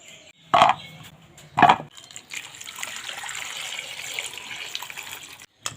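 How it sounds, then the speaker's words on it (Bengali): Potatoes are rinsed under a running kitchen tap: two short bursts of splashing water, then a softer steady trickle and handling noise, close and fairly quiet. "আলুটা এভাবে ভালো করে ধুয়ে নেব"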